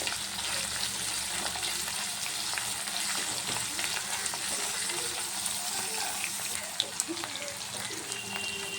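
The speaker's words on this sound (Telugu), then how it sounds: "ఆనియన్స్ కొంచెం ఫ్రై అయ్యాయి కదా" Onions frying in a pan with grated ginger and curry leaves give a steady, dense sizzle with faint stirring clicks throughout, no voices.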